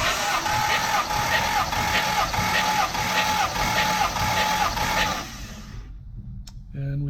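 A 1958 Jaguar XK150 coupe with its 3.4-litre engine cranking steadily on the starter during a compression test, throttle open, a loud, even, rhythmic churn that runs for about five seconds and then stops.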